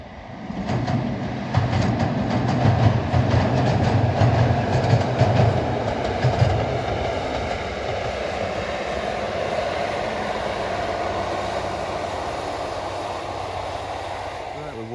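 A Northern Rail Class 156 diesel unit on a Carlisle service crosses a bridge, a loud steady rumble with rhythmic wheel clatter that gradually eases into a sustained drone.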